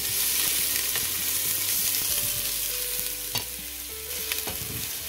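Onions fry in oil in a very hot pot, making a dense close sizzle broken by sharp scraping and knocking as they are stirred quickly, with no voices.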